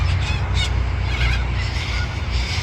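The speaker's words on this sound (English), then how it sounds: "that is all cockatoos in the tree. Wild cockatoos just flying about making an absolute racket." Wild cockatoos squawk raucously in a tree beside a road on the old Adelaide Grand Prix circuit, a continuous loud harsh chorus with a broad noisy wash underneath.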